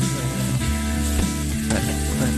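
Spicy frog stir-fried with ground pepper in a pan, with a loud continuous sizzle and scraping, rattling stirring of the utensil against the pan throughout, close and with no talking.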